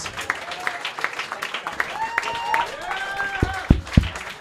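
An audience at a comedy roast battle tournament claps and cheers amid crowd chatter and whoops, with a few sharp loud claps standing out near the end.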